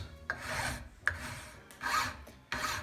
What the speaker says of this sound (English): And now for deburring. Yeah, or rather the chamfering the edges.